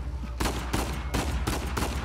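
Rapid bursts of gunfire in the video game Uncharted 4 during a prison escape, several loud close shots and volleys in quick succession under a constant background.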